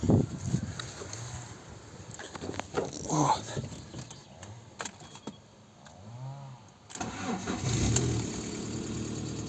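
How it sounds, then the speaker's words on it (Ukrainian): A Lada Priora's 126 engine, fitted with a new timing belt, cranks in a few bursts, then catches and settles into a running idle, close by with some clatter around it. "Заводимо машину."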